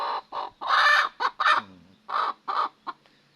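A brooding farm hen sitting on her eggs gives a series of close, short clucks and grumbling calls in uneven bursts, with a low murmur after the louder notes.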